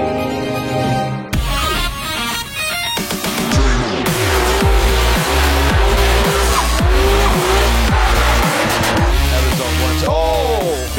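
Drift cars at a Drift Masters event in Riga roar past at high revs, tires squealing and skidding in long wails over loud, continuous engine noise.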